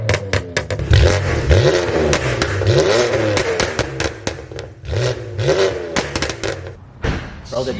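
BMW F80 M3 with catless downpipes revving and downshifting, loud, rising and falling exhaust bursts with sharp pops and crackles between pulls, close by, with voices talking over parts of it.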